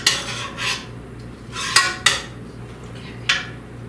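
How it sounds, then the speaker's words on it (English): Stuffed peppers set into a crock pot over sauce, making a few sharp clinks and clatters of cookware and utensils in a quiet kitchen, close by with no talking. "I'm going to put them into my crock pot on top of the sauce that I spread around on the bottom."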